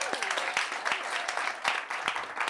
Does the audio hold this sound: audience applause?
yes